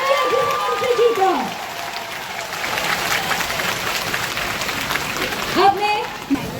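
A crowd applauds to welcome Home Minister Amit Shah at a rally, steady clapping spreading through the gathering while an announcer's amplified voice rings out at the start and end.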